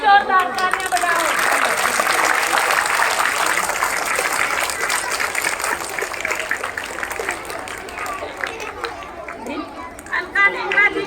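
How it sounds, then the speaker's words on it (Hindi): Applause and crowd chatter at a school event in Delhi honouring teachers, a broad continuous wash of clapping mixed with voices and children's speech that holds steady for about eleven seconds before thinning slightly. "उनके लिए एक बार फिर से जोरदार तालियां बजाओ।"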